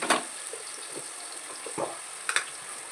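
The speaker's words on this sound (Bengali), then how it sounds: "ওই লঙ্কার গুঁড়ো আর কি, আর লবণ, এই দুটো দিয়ে মাখিয়ে রিফাইন তেলে দিয়ে দিলাম।" Paneer coated in chilli powder and salt sizzles in hot refined oil, a soft steady frying hiss broken by a few sharp spits and clatters of stirring, close and without speech.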